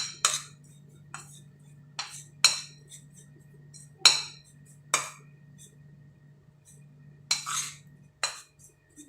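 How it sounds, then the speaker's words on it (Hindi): A spoon clinks and scrapes against a bowl while mixing spices into dried mango powder, giving irregular, close, distinct taps spaced a second or two apart over a low steady hum. "ये सारे मसाले आपने जो है वो ऐड कर देने हैं खटाई के अंदर, और इसको जो है वो अच्छे से मिक्स कर लेना है"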